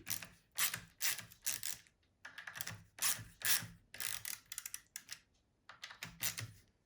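Repeated ratcheting clicks in short bursts of several seconds each, with brief pauses between, as parts on a Rovan Max 5T RC car are tightened by hand into plastic; close and fairly quiet, with no talk.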